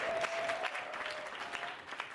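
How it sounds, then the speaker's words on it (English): Conference crowd at a live podcast event clapping for a couple of seconds, a moderately faint, somewhat distant patter of applause. "Actually, they deserve a grand applause."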